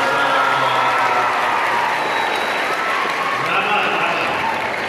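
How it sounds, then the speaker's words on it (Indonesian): A crowd at an Islamic New Year religious gathering in Tebing Tinggi breaks into applause, a dense continuous patter of clapping held at steady volume for several seconds. "Beri tepuk tangan dulu."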